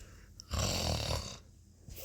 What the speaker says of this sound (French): le ronflement de cochon